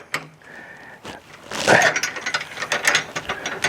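A ratchet wrench with a 3/4 inch socket tightening hitch bolts and a lock nut on a vehicle hitch, giving rapid clicking pawl bursts that grow louder and busier in the second half, close and alone.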